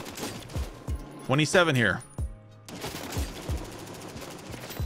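Rapid automatic rifle fire in Warzone, bursts of snappy shots in quick succession at moderate level, with someone talking over part of it.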